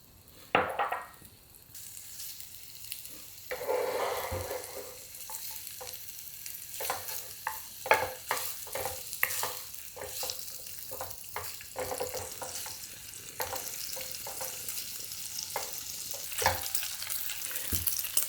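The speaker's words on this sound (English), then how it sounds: "the bacon is just beginning to brown, and I don't want it to get crisp" Bacon frying in a little olive oil in a pan, a fairly quiet, continuous sizzle with frequent clicks and scrapes from stirring spread across the whole stretch, no speech.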